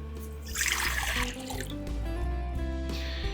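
Water pours into a mixing bowl for sourdough bread dough, a bright splashing stream in two short bursts with a quieter gap between, fairly soft and close, with no voices.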